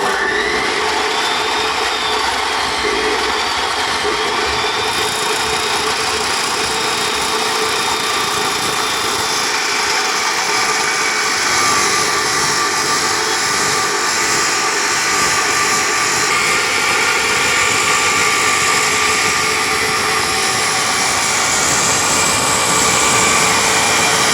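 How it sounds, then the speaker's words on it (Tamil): A Dongcheng 14-inch, 2000W heavy-duty cutoff machine slices through a metal piece, its abrasive disc holding a loud, continuous high whine and grinding roar for the whole stretch, close up with no voices. "இது வந்து எவ்வளோ லோடு கொடுத்தாலும் நல்லா சாஃப்டாக அந்த மெட்டல் பீஸை கட் பண்ணுறது உங்களுக்கு பார்த்தாலே தெரியும்"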